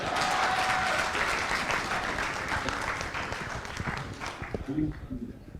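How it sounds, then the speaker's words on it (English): Dense applause fills a Rotary Club joint fellowship hall, loud and steady at first, then thinning out toward the end as scattered claps and murmuring voices take over. "That kind of question deserves another round of applause."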